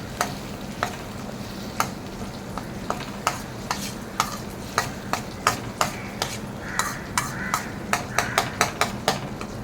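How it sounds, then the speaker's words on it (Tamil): Tamarind water with spices boils in a pan while being stirred, giving a steady bubbling sizzle broken by regular sharp scrapes and taps of the spoon against the pan, close and fairly loud, with no talking. "கரைச்சி வச்சுக்கிற புளி தண்ணியும் சேர்த்து கொதிக்க விட்டுருங்க"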